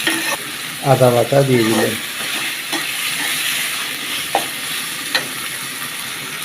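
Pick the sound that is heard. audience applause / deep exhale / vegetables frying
vegetables frying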